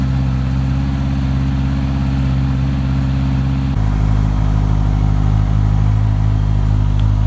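A Honda CBR650R motorcycle that sat unstarted for two days runs loud and close with a steady low idle, then shifts abruptly to a deeper, fuller engine note partway through, with no voices over it.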